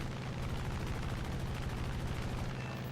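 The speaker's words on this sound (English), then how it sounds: "Yep, it's long range shooting" Long-range aircraft gunfire during a War Thunder airfield assault event, a dense rattling stream of rapid shots mixed into a steady roaring engine drone, continuous and fairly loud throughout.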